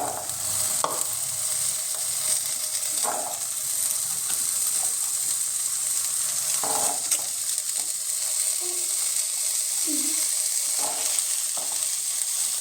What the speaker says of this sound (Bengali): তেলটা গরম হয়ে গেছে, এবার আলুটা আস্তে আস্তে ছেড়ে দেবো।